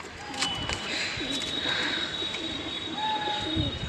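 Pigeons at a pigeon fight coo and call faintly in an outdoor setting, with soft intermittent bird sounds over low background noise.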